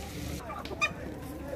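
Roosters at a poultry bazaar give a short, close cluck against background market murmur and a faint voice.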